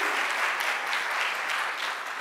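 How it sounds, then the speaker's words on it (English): A church congregation claps steadily at a Sunday sermon, a dense, even round of applause that holds at a moderate level throughout, with no voices over it. "Give yourselves a round of applause for that."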